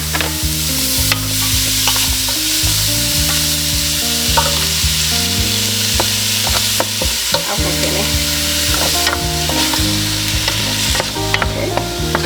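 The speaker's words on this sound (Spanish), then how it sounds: "ahí voy a agregar los pimientos, el tomate, las zanahorias que me quedan" Peppers, tomato and carrots going into a pot for a pot roast beef and frying, a loud continuous sizzle with occasional stirring scrapes and clinks, heard alone over a steady background tone.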